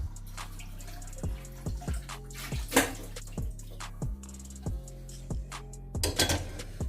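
A cooking pot being rinsed in a kitchen while preparing aloo gobi: running water splashes against metal in a steady stream, with a series of regular knocks and clunks as the pot is handled, fairly close.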